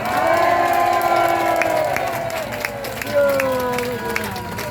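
An outdoor rally crowd at Gwanghwamun claps and cheers, a dense roar of applause and whoops, loud and sustained, with an amplified voice speaking over it.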